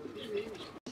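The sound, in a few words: pigeon cooing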